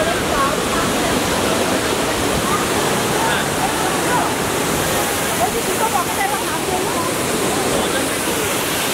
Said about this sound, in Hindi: ये यहाँ से आता है वाटरफॉल पूरा, फिर नीचे होके आगे चला जाता है